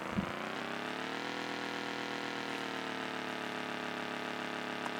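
A motocross motorcycle idling in a video game, a steady buzzing engine drone that rises slightly in pitch early on then holds even, no talk over it.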